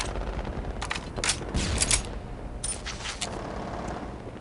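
Automatic AR rifle gunfire in Counter-Strike: Condition Zero Deleted Scenes, with repeated bursts of fairly loud shots in a rough, uneven rhythm set against constant game background noise.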